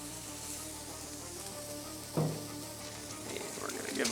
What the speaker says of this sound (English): we're gonna fry up the patties on the Blackstone